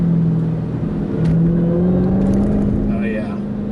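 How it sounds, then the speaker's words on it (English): A 2020 Dodge Challenger Hellcat with a manual gearbox pulls hard through a tight section, its engine roar carrying a rising supercharger whine that climbs and shifts in pitch. "that supercharger whine is addicting"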